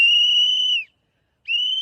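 A bystander at an ICE enforcement scene in Chicago blows two sharp, high, steady whistle blasts separated by a brief silence, loud and close with no talking.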